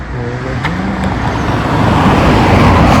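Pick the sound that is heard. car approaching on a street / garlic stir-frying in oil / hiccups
car approaching on a street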